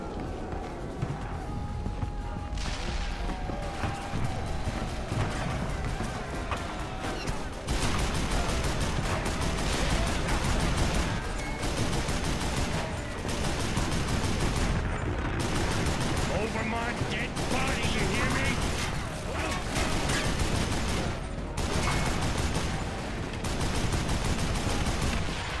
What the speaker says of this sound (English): Ray, take the other Gatling gun